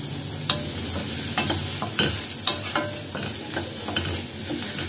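Turkey berries sauté in hot oil in a pan for chutney, a steady close sizzle broken by a spoon scraping and stirring in irregular taps throughout.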